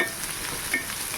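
Onions frying to golden brown for mutton biryani give off a steady, close sizzle with soft stirring scrapes, continuous and even throughout with no talking.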